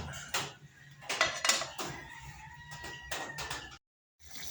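A metal lid clatters back onto a cooking pot in a home kitchen, several sharp clanks and scrapes close by, with a brief hush near the end.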